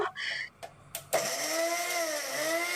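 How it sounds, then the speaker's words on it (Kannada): Kitchen mixer grinder jar blending garlic, ginger and half an onion with a little water: a few short motor pulses followed by a steady, loud whirring grind. "ಮಿಕ್ಸಿ ಜಾರ್ಗೆ ಒಂದು ಗಡ್ಡೆ ಬೆಳ್ಳುಳ್ಳಿ ಅರ್ಧ ಇಂಚು ಶುಂಠಿ ಹಾಗೆ ಅರ್ಧ ಈರುಳ್ಳಿ ಇದಿಷ್ಟನ್ನ ಹಾಕಿ ಸ್ವಲ್ಪ ಸ್ವಲ್ಪನೇ ನೀರ್ ಹಾಕ್ಬಿಟ್ಟು ಇದನ್ನ ತರಿತರಿಯಾಗಿ ಗ್ರೈಂಡ್ ಮಾಡ್ಕೊಳ್ಬೇಕು"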